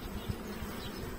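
Honeybees buzzing in an open hive during frame inspection, a soft, continuous low hum of many insects close by with slight swells, no talking.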